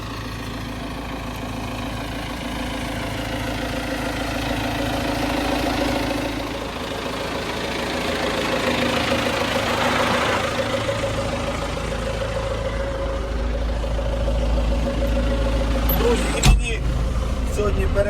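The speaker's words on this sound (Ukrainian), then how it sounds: "Зараз будемо далі двигатися на тракторі" A heavy tractor engine rumbles steadily throughout, idling then working a little harder, with no speech over it.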